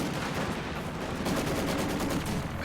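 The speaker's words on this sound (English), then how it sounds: "And what a time for the strafing run." Rapid strafing-run gunfire from aircraft in a World War II strategy video game, a dense continuous rattle of machine-gun bursts with distant explosions layered throughout, steady and loud with no talk.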